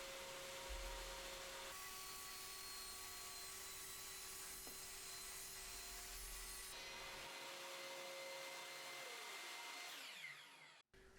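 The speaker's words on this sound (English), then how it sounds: "Then turn on the dust collection on the saw and start cutting." A table saw cuts panels for a tape shelf with its dust collection running, a steady loud whine and broadband roar with tonal hum that shifts as the cut proceeds, then winds down near the end.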